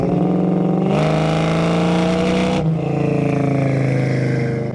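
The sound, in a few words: 1965 Ford Mustang 302 engine downshifting with aftermarket exhaust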